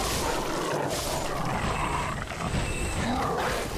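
Wolves snarling and roaring in the Painted World of Ariandel in Dark Souls 3, a dense, continuous, growling roar that stays loud throughout with no gaps, alone without talk.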